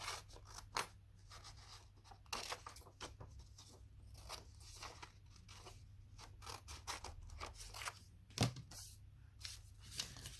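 Close, quiet snipping of scissors cutting paper in short irregular bursts, with light rustling and a sharper click partway through.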